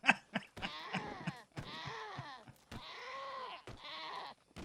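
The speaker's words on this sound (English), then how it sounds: "watch out, the goat!" A goat bleats in Red Dead Redemption, several wavering, nasal cries in a row, close and clear, with short gaps between them.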